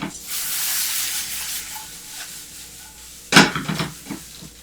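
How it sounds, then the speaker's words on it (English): Vegan sausage stirred in a hot pan, with a steady bright sizzle and hiss throughout, then a sudden close scrape and clatter of the utensil against the pan near the end. "I'm going to stir the sausage again."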